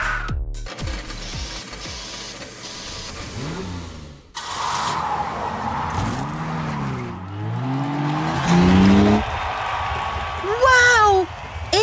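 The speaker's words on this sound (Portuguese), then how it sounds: "Esse é o caminhão monstro mais rápido que eu já vi!" A cartoon monster truck's engine revs and whines in rising and falling sweeps, with tire squeals and skids, loud and up close, mixed with voices and bright music.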